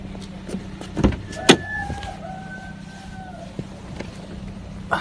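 A car whirs and clunks nearby, with a power window motor sweeping briefly and a door sound, as a couple set off to drive to a goose farm in winter. There is no talk over it.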